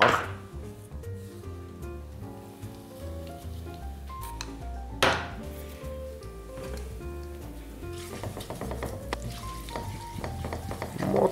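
Spices such as ground red and black pepper with vegetables frying in a pan, a soft sizzle with utensil clinks and scraping while music plays throughout.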